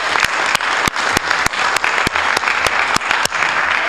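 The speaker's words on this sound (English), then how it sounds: "So just another note of applause for the team, please, for that going way beyond." A board of directors meeting audience for a community energy team breaks into applause, loud and steady clapping with a few sharp, distinct claps standing out across the room.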